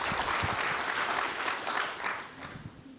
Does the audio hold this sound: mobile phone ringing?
no